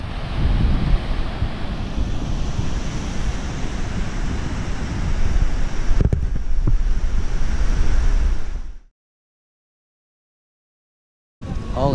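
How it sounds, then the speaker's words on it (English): Ocean surf at Byron Bay beach in Australia, a continuous wash of breaking waves with heavy wind buffeting the microphone, loud and close before cutting off abruptly. "Anyway, here's the beach."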